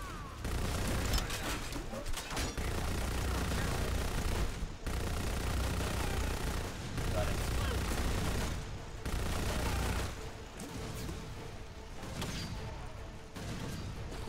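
Loud, sustained gunfire in the video game Lost Planet 2, including shotgun blasts, with dense bursts of shots and brief pauses throughout.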